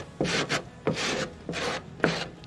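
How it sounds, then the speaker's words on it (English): A squeegee rubs across a glitter-covered surface on a slammed KDM car decorated for Christmas, giving three short raspy scraping passes, close and fairly quiet. "squeegee it all over again."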